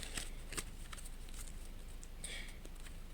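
Playing cards are shuffled in quick, faint riffles and soft papery flicks, close and quiet, with a couple of sharper snaps.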